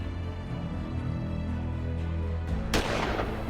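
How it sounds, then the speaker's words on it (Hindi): Gunfire from attackers at a shop in Panipat, Haryana, heard as a noisy rumble that ends in one sharp, loud report, with no talk. "जाते जाते भी आरोपी फायरिंग करते हैं और भागते हुए निकल जाते हैं।"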